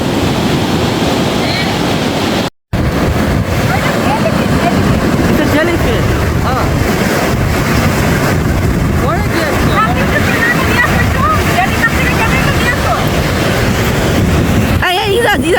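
Sea waves surge and wash steadily into a rocky beach cove, a continuous broad roar of surf with wind buffeting the microphone, while people talk over it throughout.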